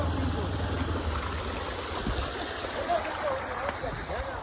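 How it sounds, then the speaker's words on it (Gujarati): A steady, rushing wash of a forest stream at Hanuman Gala in Gir fills the air continuously, with faint voices mixed in beneath the water. "જો સરસ મજાનું ઝરણું"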